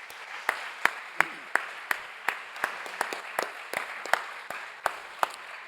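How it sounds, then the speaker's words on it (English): A moot court final audience gives applause for the arbitrators and memorial judges: sparse, distinct claps from a small group in a loose, uneven rhythm, fairly quiet, with individual sharp hand claps standing out. "give another round of applause, both to the arbitrators and also to the memorial judges who judged all your memorials"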